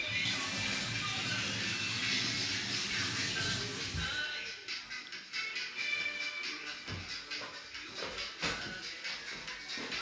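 Breaded roast meat sizzles on a hot griddle: a loud, dense hiss for about four seconds, then it fades to a quieter crackle with a few clinks and light shuffling.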